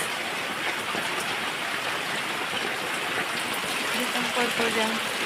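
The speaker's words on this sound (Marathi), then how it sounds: "परत आला जास्तच पाऊस" Steady, dense rain hisses continuously at close range, with a faint tonal hum near the end.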